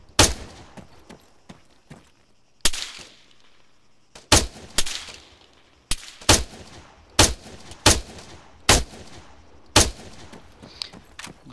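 Gunshots in the military shooter Arma III, Wasteland mod: about a dozen sharp, loud single reports spaced a second or two apart, each with a short echoing tail, over a quiet outdoor backdrop.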